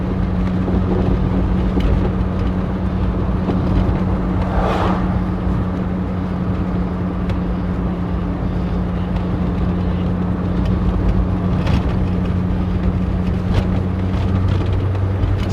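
Running 1966 Humber Super Snipe heard from inside, a loud steady engine drone with a low hum and constant road noise, the occasional knock and rattle from the rear cutting through.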